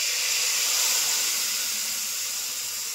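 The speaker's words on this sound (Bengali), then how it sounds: "সম্বারে দিয়ে দিচ্ছি।" Black cumin and ginger tempering hits a bottle gourd curry with a continuous loud, bright sizzle that holds steady and fades only slightly.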